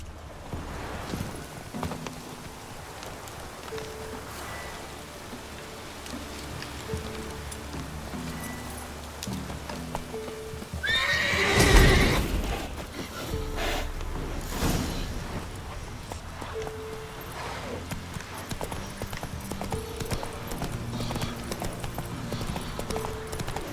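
Horse hooves clip-clop at a steady trot in The Witcher 3, over low ambient game music, with a brief louder rush of sound partway through and no talking.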